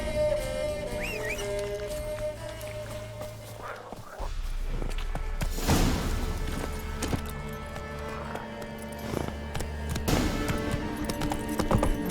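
Horse hooves gallop in The Witcher 3 video game, a rapid clip-clop over game music and ambience, growing louder and busier midway as the horse runs on.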